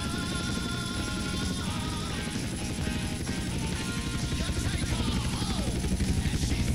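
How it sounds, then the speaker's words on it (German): Helicopter taking off in the video game GTA San Andreas, a steady loud rotor whir and engine drone with rhythmic blade chop building toward the end, no speech over it. "Hubschrauberstart."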